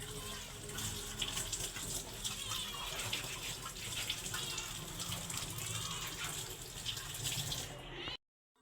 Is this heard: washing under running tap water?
yes